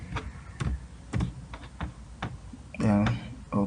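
Value typed on a computer keyboard during data entry in SPSS, a handful of sharp separate key clicks at an uneven pace, close and fairly quiet, with a brief voice near the end.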